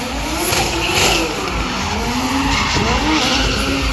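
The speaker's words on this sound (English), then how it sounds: "As he lights up the rear wheels, Mazzy doing the same" A drift car at a Hot Wheels drifting show spins its rear wheels, producing a loud, continuous tire squeal with wavering pitch and engine roar throughout.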